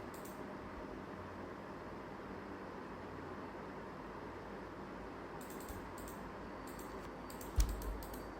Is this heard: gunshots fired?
no